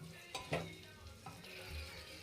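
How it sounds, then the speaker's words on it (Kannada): Tomato bath with coriander and mint is stirred in a pan, giving soft scraping strokes and a couple of sharper spoon clicks over a faint, quiet sizzle. "ಈಗ 1 ರೌಂಡ್ ನೀಟಾಗಿ ಮಿಕ್ಸ್ ಮಾಡ್ಕೊಂಬಿಡೋಣ"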